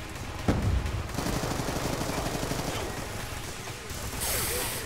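Gunfire in the shooter game Black Ops 2: a single heavy shot, then a rapid, steady burst of automatic fire lasting a few seconds, under faint talking.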